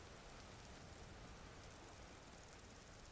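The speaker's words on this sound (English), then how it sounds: "It has started to rain." Rain in the video game Vintage Story, a steady, even wash of falling drops that stays very faint and constant throughout.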